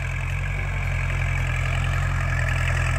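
A tractor engine runs steadily in a cassava field on a sunny day, with a continuous low idling rumble and no voices over it.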